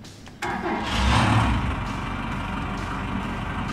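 An engine on a wash plant in the Gold Rush video game kicks in after a sharp start, rising to a loud rumble before settling into a steady running drone.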